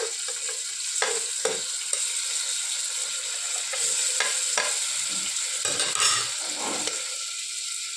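Onions and green chili sizzle in hot oil while a spoon scrapes and stirs the pan in irregular bursts, a steady close frying hiss underneath with no speech.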